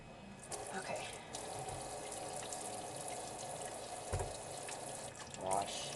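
Water runs steadily from a kitchen tap while hands are washed beneath it, a faint continuous splashing hiss with small bumps and clinks, and a voice talking quietly in the background.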